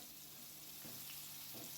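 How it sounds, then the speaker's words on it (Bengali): Potatoes frying slowly in oil over a low gas flame, a soft, steady sizzle heard close and faint with no talking. "আলুটা একদম গ্যাসের ফ্লেমটা কম করে আস্তে আস্তে ভাজবো।"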